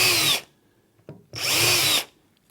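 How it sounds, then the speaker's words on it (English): A power drill bores into the leg boss of a Cooke & Lewis 600 standard appliance housing, with two close, loud bursts of whirring drilling separated by a short pause and a faint knock. "I'm now going to drill 3 holes."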